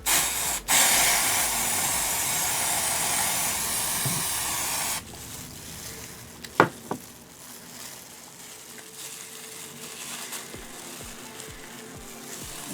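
Temporary hair colour spray hisses from a can in one continuous close, loud burst for about five seconds, followed by quieter handling sounds and soft clicks.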